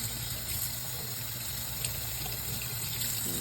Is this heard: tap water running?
yes